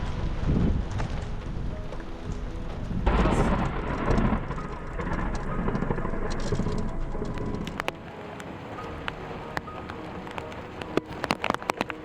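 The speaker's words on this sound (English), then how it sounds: "This time, we drove straight into a summer thunderstorm." A summer daytime thunderstorm in Kruger National Park during an evening game drive: heavy rain drums steadily with rolling thunder and gusts of wind, then the downpour eases to scattered close drips and taps near the end.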